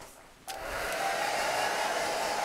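A hair dryer switches on after a brief silence and runs steadily with a constant whirring blow, close and fairly loud.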